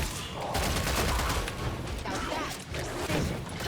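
Rapid gunfire from the video game Killing Floor 3, a dense run of shots that fills the whole stretch at a steady, loud level with no break.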